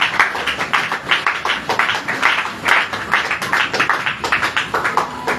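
Church congregation applauding and cheering, a dense steady wash of clapping with rhythmic bursts throughout, close and fairly loud, no one speaking over it.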